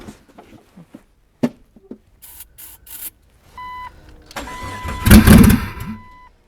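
A Jeep Cherokee engine cranks and struggles to start, with scattered clicks and short bursts, then a sustained grinding surge that grows loud near the end.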